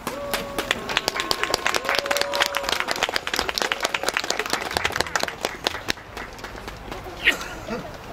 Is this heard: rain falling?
no